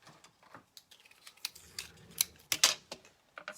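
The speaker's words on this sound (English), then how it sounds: "So let's just trim it" Scissors snip through glittery ribbon to trim it for a separate bow, a quiet series of short, crisp cuts with small rustles, loudest in a cluster toward the end.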